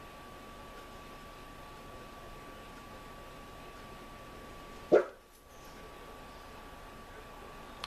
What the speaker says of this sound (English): If you can hear Sasha, she's actually sitting on, well, laying on top of the table that I do my makeup on, barking as cars drive by.